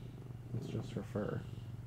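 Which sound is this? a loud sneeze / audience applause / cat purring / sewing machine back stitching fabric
cat purring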